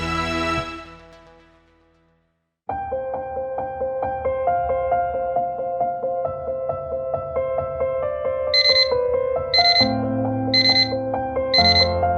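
An alarm clock rings steadily and loudly on its own after a brief burst of other sound at the start, with a repeating high beeping pattern joining near the end.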